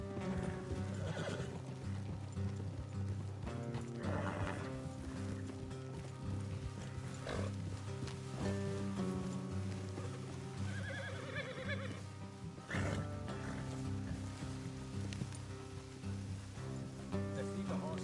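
Horses ridden in Red Dead Redemption 2 trot with steady clip-clop hooves, and several loud neighs and whinnies rise over the rhythm, with faint talk under it.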